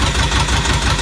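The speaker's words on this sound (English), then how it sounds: "Tell you what, exhaust on that's the lovely engine, that, isn't it?" An air-cooled narrowboat engine running with its exhaust going, a loud, steady, rough chugging drone close by with no voices.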